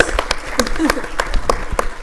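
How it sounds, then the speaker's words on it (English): An audience at a sports symposium claps for Laura Rutledge: scattered, fairly sharp individual claps repeating irregularly, with voices mingled in. "Let's give her one more round of applause."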